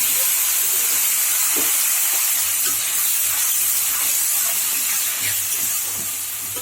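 Ground spice paste sizzles in hot oil with fried whole spices including nigella seeds, a loud, steady hiss with a few soft knocks, easing slightly at the end.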